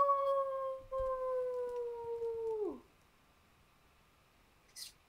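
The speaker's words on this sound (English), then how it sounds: "The fucking wolf came for us." A wolf in the Nancy Drew video game The White Wolf of Icicle Creek lets out one long, loud howl that holds steady and then drops sharply at the end, leaving near silence with a faint brief noise afterward.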